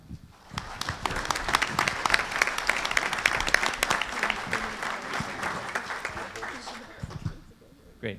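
A conference audience at a myositis association session applauds to welcome a speaker, sharp claps swelling quickly and sustained for several seconds before fading, with a voice faintly heard near the end.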